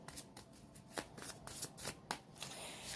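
Tarot cards are shuffled by hand in a steady series of crisp riffling snaps and soft slides, close and fairly quiet, with no talking.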